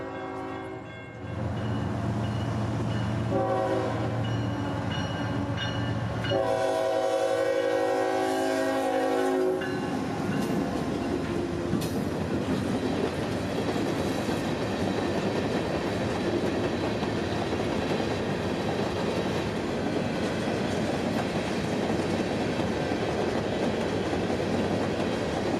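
Local freight train L781 heading north past a church in Lutz: horn blasts sound first, then the train rolls by with a loud, sustained rumble and wheel clatter.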